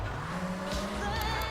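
A Cheetah sports car in Grand Theft Auto III drives with a steady engine drone and tire squeal, running alone without talk.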